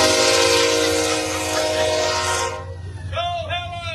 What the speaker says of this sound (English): Let's let the engine get by.